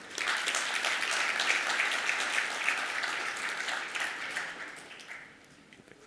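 Conference audience clapping for the speakers at an incident-response talk, a dense, sustained round of applause from a full room that tapers off near the end.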